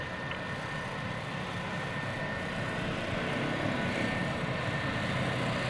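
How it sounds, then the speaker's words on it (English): An aerobatic airplane's engine drones steadily overhead at a 2002 naval air station airshow, a continuous broadband roar at moderate distance with no talk. "Listen to that engine."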